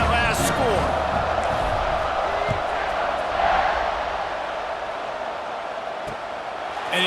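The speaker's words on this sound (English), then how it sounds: "this crowd is buzzing after that last score" A stadium crowd in EA Sports College Football 26 buzzes after a score, a dense steady roar that eases slightly over the seconds, with a voice mixed faintly into the noise.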